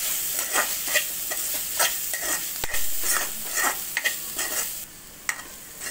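Momo filling in a pan, a mix with tomato ketchup and chilli flakes, being stirred: soft repeated scrapes and spatula strokes over a faint sizzle, close and moderately quiet, with no talking.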